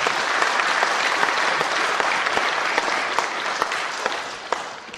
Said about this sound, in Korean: 뜨거운 박수로 청해 듣겠습니다.